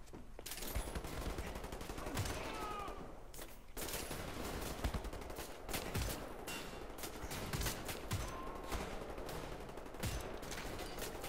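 Repeated gunfire from a marksman rifle in the shooter game Wolfenstein: The New Order, shots cracking out in quick bursts across a dense, loud battle soundscape with no pauses.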